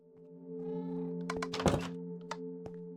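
Cats meowing inside a cat cafe in Minecraft, a couple of short mews rising over a steady hum, with a solid thunk near the middle and a few sharp clicks.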